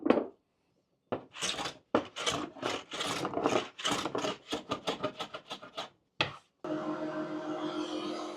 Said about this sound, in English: But after a little bit of light planing,